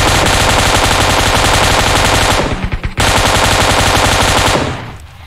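Rapid automatic gunfire in PUBG Mobile, in loud continuous bursts, briefly breaking off with a few scattered shots before resuming and then cutting out.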